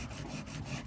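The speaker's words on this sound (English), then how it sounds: "sanding these little vent areas, because each one of them has to be individually sanded" Hand sanding the small vent areas on a Porsche 914 body panel makes a steady, close, raspy scrubbing with short back-and-forth strokes, heard alone.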